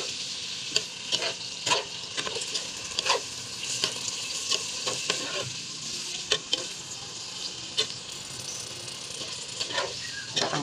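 Pork sautéing in a pan for Kapampangan-style dinuguan, a quiet steady sizzle broken by scattered scrapes and clinks of a spoon stirring against the pan.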